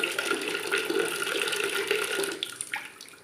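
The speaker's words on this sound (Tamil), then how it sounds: "இதில் நம்ம நல்லா தண்ணியை கலந்துக்கணும்." Guava leaf water is stirred into bath water in a tub or bucket, giving a continuous splashing, sloshing wash of liquid that churns steadily and then tapers off near the end.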